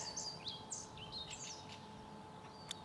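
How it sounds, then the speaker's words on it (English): Birds sing and chirp on a lovely early morning by a golf course, with repeated short high tweets over a faint steady outdoor hush. "You have some birds singing."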